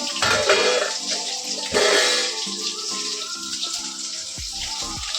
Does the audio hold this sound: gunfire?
no